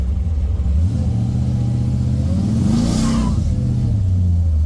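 Supercharged 1968 Chevrolet Camaro engine idling loudly, then rising in a throaty rev as the car pulls off slowly onto grass, close and dominant before settling back down.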